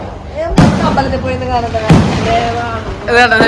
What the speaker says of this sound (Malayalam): ഇവിടെ വെടിക്കെട്ട് കണ്ടോണ്ടിരിക്കണ കണ്ടില്ലേ